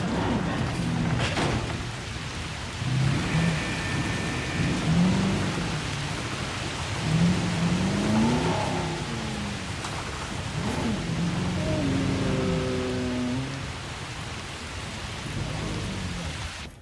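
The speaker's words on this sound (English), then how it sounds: "Storm has hit." Thunderstorm in the video game Jurassic World Evolution: steady heavy rain hisses throughout while deep thunder rumbles and booms roll in repeatedly, with faint tonal game sounds occasionally rising above the downpour.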